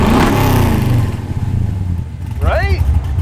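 A car fitted with a Flowmaster exhaust revs with a raspy, fairly subdued engine note, loud and close at first and then easing off, with a voice speaking over it near the end.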